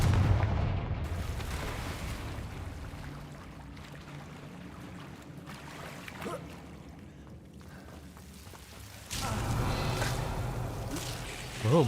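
Confringo fire-spell explosions in the Hogwarts Legacy video game, heavy booming blasts with long rumbling decay, one near the start and another around ten seconds, with quieter crackle between.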